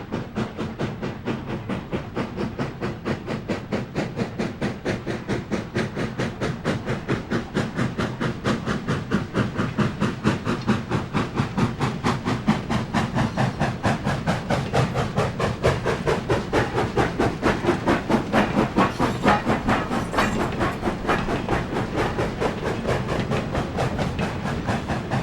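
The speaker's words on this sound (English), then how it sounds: "A freight comes out of Rossford Yard headed up by a Class Q Mikado." A B&O freight train hauled by a Class Q Mikado steam locomotive pulls out of a rail yard, giving a steady, rapid chuffing exhaust beat that builds and stays loud and close throughout, with hiss and rolling rail noise beneath and no voices.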